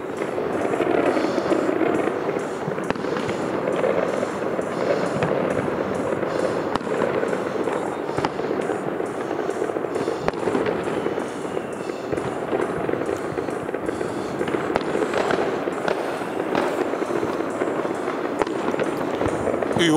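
Fireworks over Enschede on New Year's Eve, seen from a high tower, with dense crackling and booming bursts that go on steadily throughout, mostly at a distance and some nearer.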